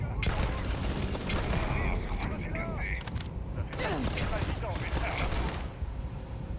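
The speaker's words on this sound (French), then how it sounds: "Qu'est-ce qui me tire dessus?" Rapid bursts of gunfire from the Starfield video game crackle continuously and loudly, overlapping with creaking mechanical noises, while a player talks throughout.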